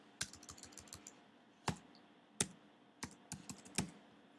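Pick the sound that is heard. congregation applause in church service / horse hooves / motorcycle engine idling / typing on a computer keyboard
typing on a computer keyboard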